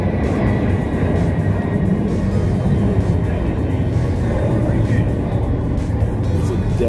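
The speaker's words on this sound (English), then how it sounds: "airplane." An airplane flies overhead near an airport, a loud, steady broadband roar that fills the whole stretch without clear rise or fall.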